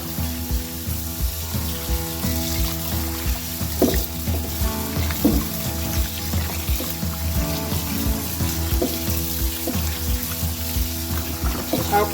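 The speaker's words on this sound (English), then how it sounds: "I'll keep washing this until my water is very clear." Cassava (akpu) is washed by hand in water, with continuous splashing, sloshing and rubbing in a steady uneven rhythm, moderately close, and a persistent hum running underneath.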